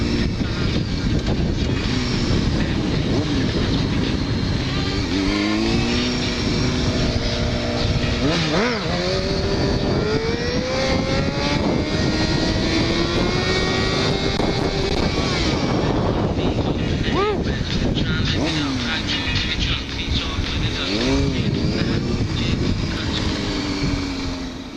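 A motorcycle pulling a wheelie, its engine revving up and rising in pitch as it builds speed, loud and droning, with shifting revs and a second climb toward the end.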